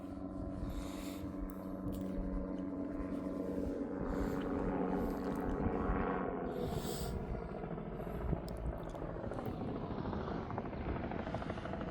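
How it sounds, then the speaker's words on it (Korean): A helicopter flying near a Mongolian ger camp, its steady engine and rotor drone holding loud and continuous throughout, with no talking. "그러니까 저 비행기 헬리콥터를 타고 오죠."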